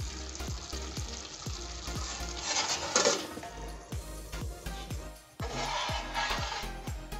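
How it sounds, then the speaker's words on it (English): Goat pilau simmering on low heat in a pot gives off a steady sizzling, frying hiss with repeated soft scraping or stirring knocks, fairly close and continuous, with no talking. "simmer and dry up."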